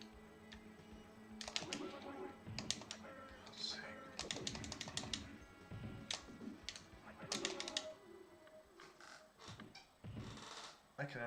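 Computer keyboard keys clack in quick irregular bursts of close, sharp taps during a keyboard-controlled Street Fighter 2 session, with quieter gaps between flurries and a voice talking at times.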